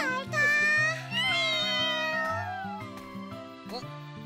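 A cat meows loudly and close up in drawn-out, wavering cries, one after another, over a bright playful melody in the background.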